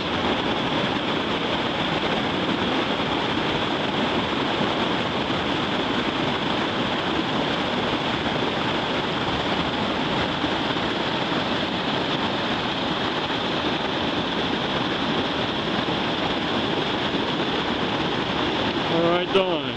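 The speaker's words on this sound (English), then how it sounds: "this is a rapid here on Stony Creek called Beast." Whitewater of the Beast rapid on Stony Creek roars in a dense, constant wash, loud and close for the whole stretch, with a brief splashy disturbance near the end.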